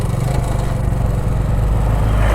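A motorcycle engine drones steadily while riding along a road toward the Gooty fort hill, a continuous low rumble with no breaks.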